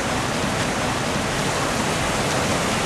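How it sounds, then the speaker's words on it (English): A small waterfall in a shallow, rocky river rushes continuously, a steady, close, broadband roar of falling water with no other sounds. "There is a small waterfall in the river."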